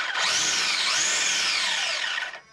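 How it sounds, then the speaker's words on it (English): A high, whirring spur gear whine from a Traxxas Mini Maxx RC car spins up, rises and falls in pitch for a couple of seconds, then cuts off abruptly, loud and close. "there's the sound with the spur gear."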